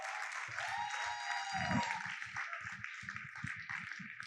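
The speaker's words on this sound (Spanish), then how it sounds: "Dame un aplauso a él." Congregation applauding during a church service: steady, dense clapping that fills the room for the whole stretch, with voices and some sustained tones underneath.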